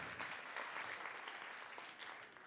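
Theatre audience applauding actors on stage at a student theatre show, a steady dense wash of clapping that holds for the whole stretch and tapers slightly toward the end.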